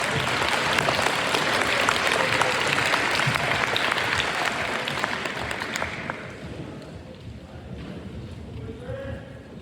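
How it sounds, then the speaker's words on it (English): Audience applause at an FFA awards banquet for Greenhand degree recipients, a loud sustained wash of clapping that fades and thins out over the final seconds. "Could we please have a round of applause for our Greenhand degree recipients?"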